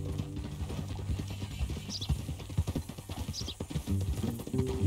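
Rhythmic hoof clip-clops from a horse in Red Dead Redemption 2 plod along steadily, layered over a low game-style ambience with a faint bright chime here and there.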